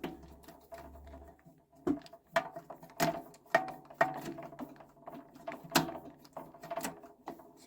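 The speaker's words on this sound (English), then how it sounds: "You've then got two screws just to screw the table on." Table being screwed onto a Cyklos RPM 350 Plus perforating machine, a faint run of small ratcheting clicks and metallic taps from a screwdriver, close and quiet.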